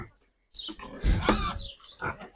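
Pigs on a village farm grunt and snort close by in several irregular bursts after a short silence, loud and rough, with no talk over them.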